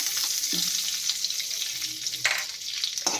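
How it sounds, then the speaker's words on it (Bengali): Two spoons of ghee melt in a hot pan over a lowered gas flame: a continuous, hissing sizzle with a couple of brief scrapes, close and fairly loud, with no voices. "ঘিটাকে পুরো আমি গলতে দেব"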